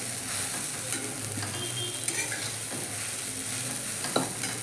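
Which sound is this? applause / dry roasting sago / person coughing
dry roasting sago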